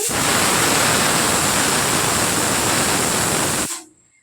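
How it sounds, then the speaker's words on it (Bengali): Pressure cooker whistling steadily while kalai dal boils on a home kitchen stove, a loud continuous hissing steam jet lasting several seconds before cutting off abruptly into quiet. "আর ডাল তো সিটি পড়ছে তিনটে পড়লো"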